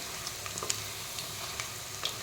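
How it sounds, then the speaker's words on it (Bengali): Fritters (bora) frying in hot oil, a soft continuous sizzle with a few faint pops and crackles spaced through it, fairly quiet and without voices. "বড়াগুলো ভাজা হয়ে গেছে।"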